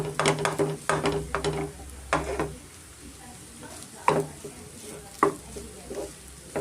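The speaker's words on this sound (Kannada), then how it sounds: "ರೈಸು ನೀಟಾಗಿ ನಾವು ಮಿಕ್ಸ್ ಮಾಡ್ಕೊಳ್ಳೋಣ" Rice for drumstick-leaf egg rice being stirred and mixed in a frying pan, a series of spatula scrapes and clatters over a soft sizzle, quieter gaps between strokes, with a voice talking intermittently.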